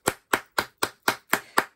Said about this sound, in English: Give yourself a great big clap.